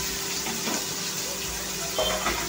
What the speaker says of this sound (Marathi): भाज्या छान फ्राय करून घ्यायच्या आहेत तेलामध्ये 1-2 ते 3 मिनिटं